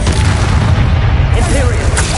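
The explosive Confringo spell in Hogwarts Legacy detonates with a loud, low, rumbling boom that fills the whole moment, with a voice shouting over the blast.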